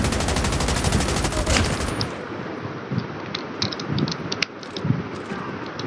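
Automatic gunfire in Call of Duty Mobile multiplayer Domination, a dense loud burst of rapid shots for two seconds, then scattered clicks and mechanical weapon handling sounds.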